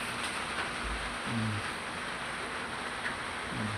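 Steady rain falls outside a house, a continuous soft hiss with a few low thumps and no voices.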